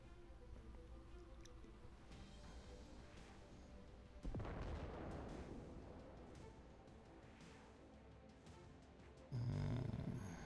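Artillery salvo fired during a 3v3 battleship video game match, heavy booming blasts rumbling under a continuous roar, with a loud burst around the middle and another sharp boom near the end.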